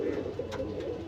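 A pigeon close by gives a soft, low, throaty coo that rolls on steadily for about a second, alone.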